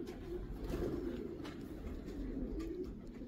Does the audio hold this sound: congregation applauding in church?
no